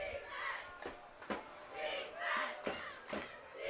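Cheer squad chanting in rhythmic bursts at a Skyline vs. Bellevue high school varsity football game, with crowd voices rising and falling in distant repeated calls under stadium ambience.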